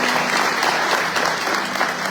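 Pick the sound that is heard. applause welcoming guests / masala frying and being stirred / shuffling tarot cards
applause welcoming guests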